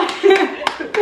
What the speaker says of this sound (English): can I clap?